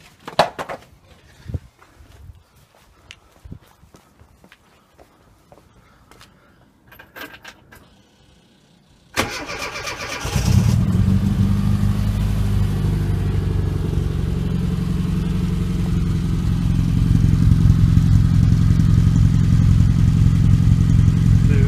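Clicks and rattles give way to a classic Mini Cooper SPI engine cranking and catching, then a deep, loud, throaty decat straight-through exhaust idles steadily up close for several seconds.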